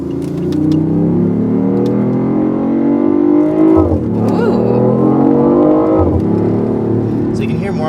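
An electric car hums and whines as it accelerates, the rising electric tone sweeping upward and dropping at each simulated gear shift, loud and close throughout.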